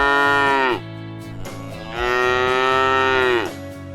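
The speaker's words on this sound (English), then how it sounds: "I am a cow." A cow moos twice, long, loud and close, each call a drawn-out rising and falling low bellow with no other sound around it.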